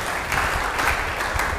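A church congregation applauds and cheers for Jesus during an Indonesian Independence Day sermon, with dense, continuous clapping and crowd noise at moderate volume and no clear speech.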